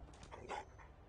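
A stray dog in the video game Fallout 4 whimpers and pants quietly at close range, a few soft whining yelps over a low game ambience.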